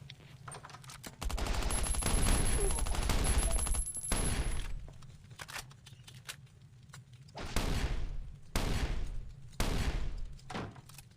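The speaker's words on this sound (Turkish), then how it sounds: "Chestlerimden shotgun trap ve mermi aldım ve ona küçük bir sürpriz hazırladım" A shotgun trap fires in the survival video game Last Island of Survival: a dense, sustained barrage of loud blasts, then a pause, then several more separate heavy bursts.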